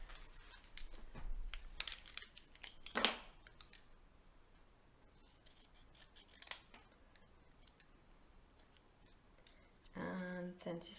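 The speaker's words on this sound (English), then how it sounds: "And then I'm gonna trim it down with scissors." Scissors trimming paper snip in short, crisp cuts and sharp clicks with quiet pauses in between, close by and fairly faint.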